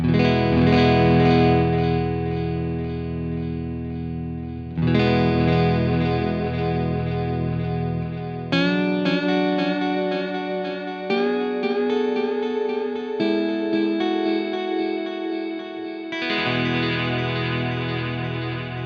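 Sustained distorted guitar chords through an Echoplex preamp ring out with dirty echoing repeats and a shimmering modulated tail, loud and continuous as the chords change every few seconds.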